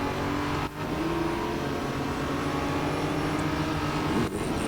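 LMP3 race cars in a racing game drone with a steady, loud engine roar from close by, with brief dips as gears shift, and no talking.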